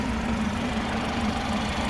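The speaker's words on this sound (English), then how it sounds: "Taking a look at the turbocharged 4-cylinder engine, I'm going to let you hear it idling uninterrupted for a moment." A 2018 BMW 330i xDrive wagon's turbocharged four-cylinder engine idles under the hood with a smooth, steady low hum, heard close and without interruption.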